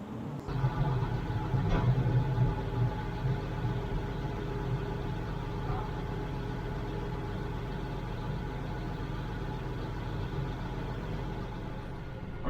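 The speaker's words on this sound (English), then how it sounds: "I got to get out here and grade this now." A machine grades freshly spread gravel on a trail, its engine giving a steady, continuous low rumble from start to finish at moderate level, with no voices.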